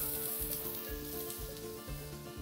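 Cauliflower sizzles steadily in a smoking-hot pan, a constant bright frying hiss with soft rhythmic stirring scrapes underneath and no talking.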